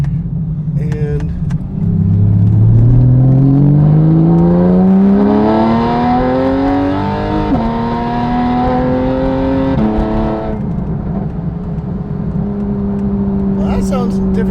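A Porsche 911 with a Fabspeed exhaust accelerates hard onto a main road, a high-pitched, raspy note climbing through two gear pulls before settling into a steady cruise, heard close and loud.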